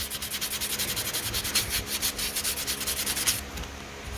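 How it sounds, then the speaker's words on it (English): Sandpaper rubs lightly back and forth on a 1983 Porsche 944 dashboard being repaired, a close, steady rhythmic scratching of quick strokes that stops near the end. "I gotta get a little sandpaper right there."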